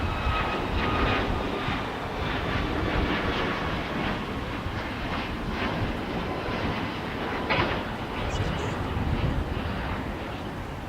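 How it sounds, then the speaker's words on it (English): An Alaska Airlines Boeing 737 MAX 9 departs LAX, its engines a loud, steady roar that holds unbroken for the whole stretch with no voices over it. "that was the departure of Alaska Airlines Flight 1301, heading back to Seattle, Washington on a Boeing 737 MAX 9"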